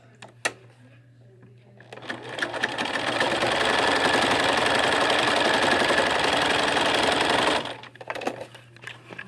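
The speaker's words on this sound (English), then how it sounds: "And I sew down one side." A sewing machine runs a straight stitch in one steady, loud, close whirring burst lasting several seconds, with a rapid mechanical needle rhythm, preceded and followed by small handling clicks and rustles.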